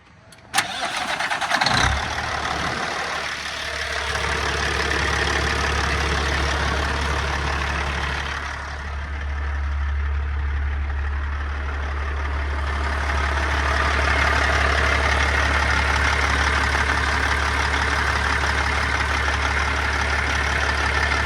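A 1000-horsepower Caterpillar diesel in a 2007 Kenworth T800 truck cranks with a sharp click, catches and roars, then settles into a steady deep idle that swells slightly later, loud and close with no talk.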